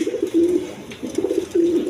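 Big-sized silver pigeons cooing nearby, two low rolling coos with a short pause between them, clear and close with no talk.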